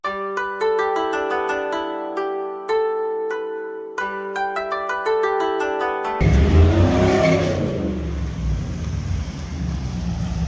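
A Chevrolet Blazer's engine roars loudly into a rough, rumbling rev after several seconds of music, the noisy burst continuing to the end without speech.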